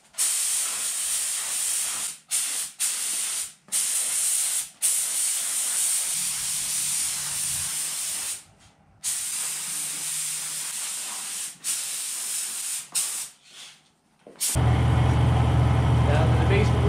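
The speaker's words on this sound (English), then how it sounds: "we just got to hit these with some clear coat" Clear coat sprayed onto 2019 Honda CRF450R motorcycle parts in repeated hissing bursts, loud and close, broken by short pauses, ending with a different steady noise.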